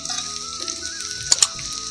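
Onion goes into hot oil during a meat curry, producing a quiet, steady sizzle with two sharp crackling pops near the end, heard close and without talk.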